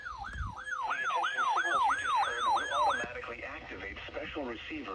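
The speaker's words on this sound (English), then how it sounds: "This is a test of NOAA Weather Radio's warning alarm systems." A NOAA Weather Radio warning alarm test tone warbles loudly in rapid, regular sweeps for about three seconds, then fades into a muddier, reverberant wash of the same tone.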